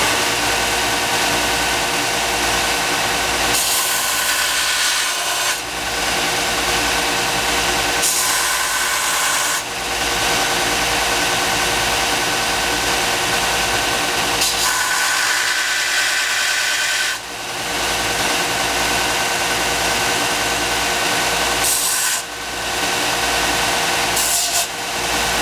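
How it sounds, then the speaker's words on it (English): Steady power sanding of a handmade Southwestern-style silver ring piece being evened out, a continuous loud grinding rub with brief pauses and shifts in pressure, with no talking over it. "one of them I could sand down just a little bit more"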